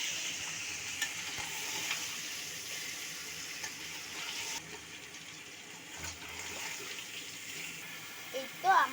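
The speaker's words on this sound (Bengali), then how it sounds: "এই তো আমার মা 15 মিনিটের মতন নাড়িয়ে নিল।" Mango pickle being stirred in a pan, a steady low scraping and sizzle lasting throughout, moderately quiet with a few sharper knocks near the end.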